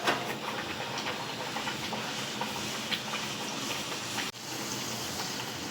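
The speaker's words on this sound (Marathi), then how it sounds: "आता गॅसवर कढई ठेवली त्याच्यात तेल घातले आणि आता ह्या पुऱ्या टाकून घेतल्या" Bottle gourd puris frying in hot oil in a wok on a gas stove, giving a continuous broadband bubbling hiss at moderate level, with a brief dip near the end, with no talk.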